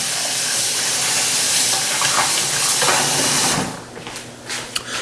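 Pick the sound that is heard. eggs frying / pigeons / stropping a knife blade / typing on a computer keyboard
eggs frying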